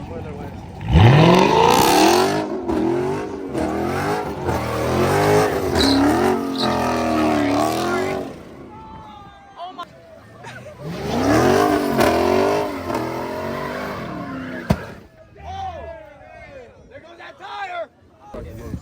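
Dodge car revving hard while doing donuts at a street takeover, engine roaring loudly in long bursts with a pause between, crowd chatter underneath.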